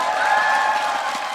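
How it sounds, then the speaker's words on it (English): A large arena crowd at a Rainbow Six Siege esports tournament roars and cheers steadily and loudly throughout, a dense wall of voices and applause with no single speaker standing out. "this amazing crowd who've been cheering you on"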